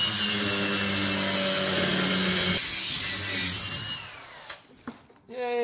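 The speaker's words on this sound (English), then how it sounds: "I could just sawzall all this now and get it out of the way" A reciprocating saw cuts through old parts while an engine is swapped on a 1964 Plymouth Fury, with a loud steady rasping buzz that stops partway, followed by scattered clanks and scraping.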